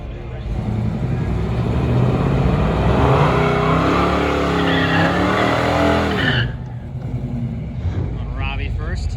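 AMC drag race car launching at the AMC Nationals, a loud roaring engine with tire squeal building and fading, with crowd and announcer noise underneath.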